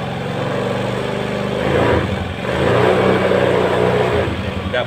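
Honda BEAT motorcycle engine revved hard, a loud continuous buzzing roar that swells twice as the throttle opens and holds, close up with no pauses.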